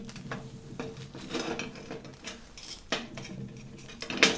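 A welded nut broken off a metal surface: scattered metallic clinks, scrapes and knocks, close and moderate in level, with a sharper snap near the end.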